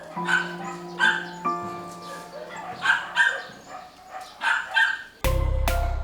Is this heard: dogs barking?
yes